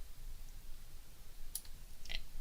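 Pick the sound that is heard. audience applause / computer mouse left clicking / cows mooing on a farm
computer mouse left clicking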